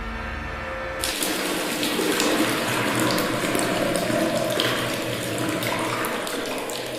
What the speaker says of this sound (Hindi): नल खुलने की आवाज